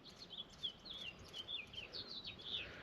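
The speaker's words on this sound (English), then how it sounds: "Those birds are just going nuts today." Several birds chirp and twitter outside a camper van in quick, repeated high-pitched bursts, moderately near and continuous, with no voices.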